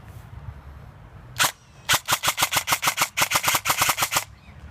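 An E&L AK-47 airsoft rifle fires semi-auto in a quick string of sharp, close shots: one single pop, then about fifteen rapid evenly spaced cracks over a quiet background.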